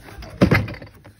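A door is pushed shut, giving a single muffled thunk with a brief rattle, close and short, with no talking.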